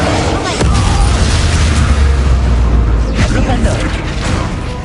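Bombarda explosion spell in Hogwarts Legacy, a heavy booming blast that kicks in early and rumbles on loudly with crackling debris through the rest of the clip.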